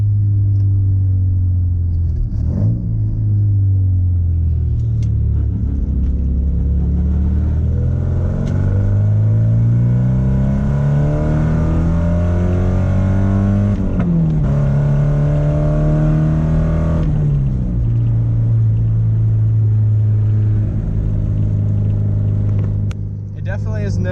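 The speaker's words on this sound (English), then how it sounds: "the exhaust leak is the bit that bothers me the most" Porsche 944 with an exhaust leak, heard from inside while driving: a loud, steady engine drone rising and falling in pitch through gear changes, with speech over it at times.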